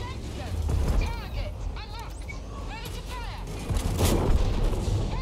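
Tank cannon fire in the World of Tanks video game, heavy booming shots with rumbling low end, loud and close, mixed over game noise and a voice talking.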